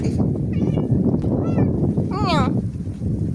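A cat meows a few times near a woman among the ruins of the ancient city of Teos at Sığacık, the short rising calls mixed with her speech and outdoor wind noise.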